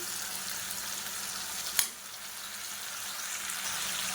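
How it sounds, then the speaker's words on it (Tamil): Drumstick, brinjal, beans and carrot sautéed with tomato and onion in a pan for kollu sambar: a steady soft sizzle with faint stirring and a single brief clink partway through. "இது எல்லாத்தையும் நல்லா வதக்கிக்கலாம்."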